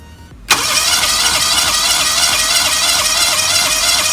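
A carbureted car engine with a distributor cranks and catches after a half-second of quiet, then runs at a steady, loud idle with no voices over it, while its owner troubleshoots a no-start fault.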